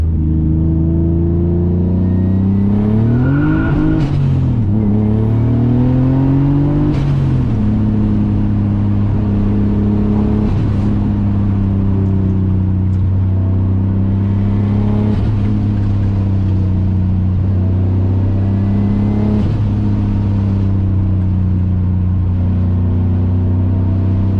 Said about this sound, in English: I'll give her another nice brake boost right here for you guys.